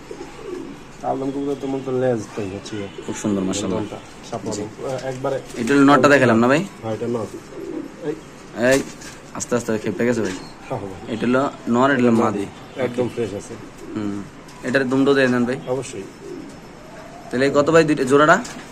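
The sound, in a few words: pigeon cooing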